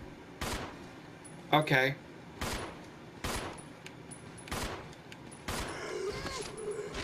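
Gunshots ring out in the Resident Evil zombie game, spaced every second or so as sharp, loud single blasts across several seconds, with a brief spoken word in between.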